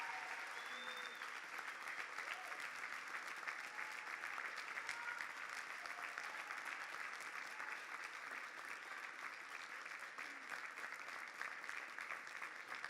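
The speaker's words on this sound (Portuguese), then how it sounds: "Uma salva de palmas para o Senhor Jesus." A church congregation at a pastors' consecration service claps steadily in praise of Jesus, an even, continuous round of applause from many people heard at moderate distance throughout.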